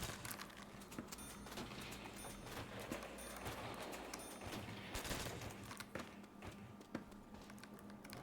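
Rapid bursts of gunfire in a zombie video game, dense and continuous with sharp cracks, faint and mixed with background game noise.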